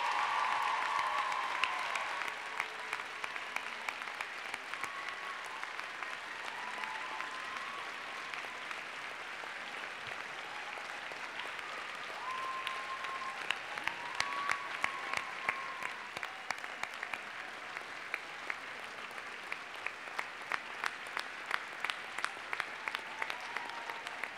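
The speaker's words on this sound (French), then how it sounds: "je vous demande de les applaudir chaleureusement en signe de reconnaissance pour leur appui indispensable" A large audience at a university graduation ceremony of the Faculty of Arts applauds warmly and steadily for about twenty-four seconds, a dense wash of clapping with sharper individual claps growing more prominent toward the end.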